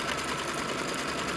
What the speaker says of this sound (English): what it's going to stitch off next is the placement line